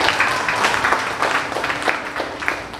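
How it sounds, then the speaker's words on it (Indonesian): Congregation at a prayer fellowship in a mall applauding during a sermon, a full, steady clatter of many hands clapping with a few louder claps poking through. "Boleh kita tepuk tangan buat Ade"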